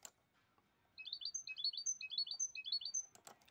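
A goldfinch sings a rapid, repeated twittering phrase known as taliris, bright tinkling notes in quick clusters, close and clear against near silence, preceded and followed by brief soft knocks.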